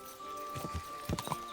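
Horse hooves in Kingdom Come: Deliverance II land as a few soft, close clops over a steady humming game ambience, with a small cluster of hits near the end.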